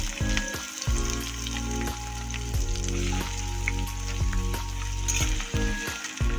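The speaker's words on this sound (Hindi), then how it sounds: "इसमें अब हम प्याज डालेंगे।" Onions and green chilies drop into hot oil over medium heat for momo filling, setting off a loud, dense crackling sizzle with sharp pops and occasional stirring, close and with no talk.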